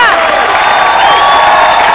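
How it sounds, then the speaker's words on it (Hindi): Studio audience at a stage show bursts into loud cheering and applause, a dense continuous roar of clapping and whoops filling the whole moment with no pause. "अतः हमारे शमी जी और हेलन जी के लिए जोरदार तालियां"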